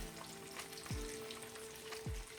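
Ham hocks browning in a pan for Southern collard greens, sizzling softly and steadily with a couple of low thumps as the pieces are shifted and turned over.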